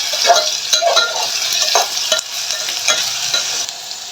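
Chopped onion fries in hot oil and is stirred in a pan. A loud, close, continuous sizzle comes with rhythmic scraping strokes of a spatula, and no one talks.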